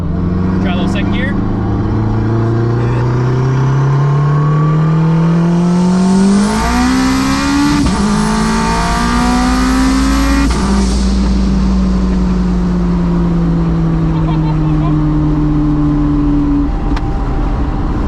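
An AWD turbocharged Honda RSX with a K-series engine and a sequential gearbox makes a hard pull in second gear. The engine is loud and close, its pitch climbs steeply through a rapid shift and then settles lower, with occasional voices underneath.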